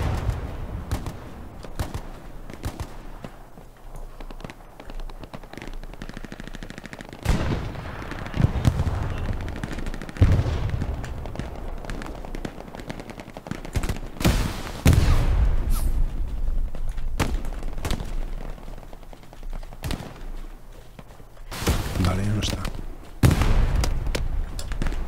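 Grenades and rockets explode over a Hell Let Loose battlefield, with repeated sharp blasts and crackling gunfire at irregular intervals, some close and loud, others farther off, over a constant rumble of combat.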